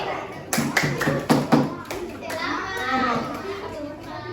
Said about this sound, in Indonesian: tepuk tangan untuk Rocky